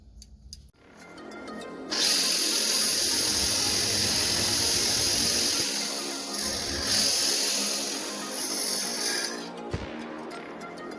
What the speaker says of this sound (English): cut off the excess thread on each end